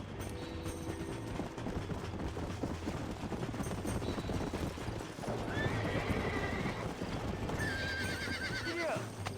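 Horses in Red Dead Redemption gallop with rapid, continuous hoofbeats close by, and loud neighs and whinnies break out midway and near the end, with someone talking over the action.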